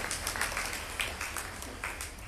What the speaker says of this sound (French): Monsieur Samsoya, acclamez pour lui.